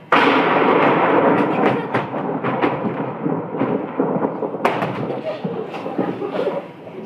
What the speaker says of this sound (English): Maybe if we all sing loudly enough, we won't hear the thunder.